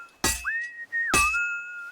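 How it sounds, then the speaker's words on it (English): Henry whistles a short rising and falling tune while forging in Kingdom Come: Deliverance II. Two sharp, ringing hammer blows on metal fall between the notes, close and clear. "the song that Henry whistles is actually different based on the speed of how you are hammering it"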